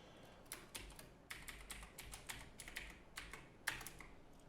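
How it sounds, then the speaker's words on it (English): A password being typed on a computer keyboard: quiet, close-up clicks of keys in an uneven rhythm, with a firmer keystroke near the end. "We're going to type our password in."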